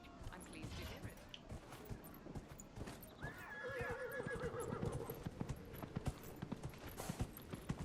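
A horse in a video game: a steady rhythm of clip-clopping hooves runs throughout, a clear neigh rises in the middle, and a person talks over the sounds.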